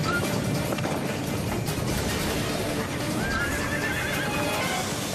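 Several racehorses gallop at full speed, their thundering hooves pounding in a continuous loud rumble, with a horse whinnying partway through, during a race pileup at a river's edge.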